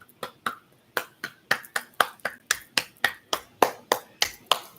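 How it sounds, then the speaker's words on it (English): One person claps sarcastically, about eighteen sharp, close claps in a steady, slightly uneven rhythm, with no talking over them. "Let me give you a round of applause."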